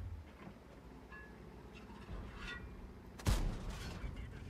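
World of Tanks battle audio with a faint distant rumble and scattered shots, then one sharp, loud tank cannon blast near the end, heard under quiet game ambience.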